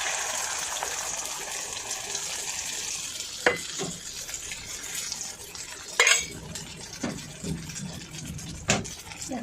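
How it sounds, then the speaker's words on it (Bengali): Egg frying in oil in a home kitchen, a steady broadband hiss of sizzling with a few sharper clinks of a utensil against the pan, fairly close and moderately loud, no talk. "দেখো ডিম ভাজা হচ্ছে"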